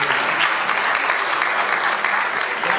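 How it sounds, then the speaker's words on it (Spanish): A church congregation applauds a first-time guest who has stood up, a loud, close wash of many hands clapping continuously and evenly. "le damos un aplauso"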